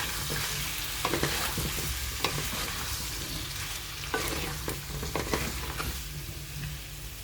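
Potato and pumpkin chunks fried with a ground paste of ginger, cumin and green chilli: a constant close sizzle broken by scraping stirs and occasional sharper clacks of the spoon against the pan.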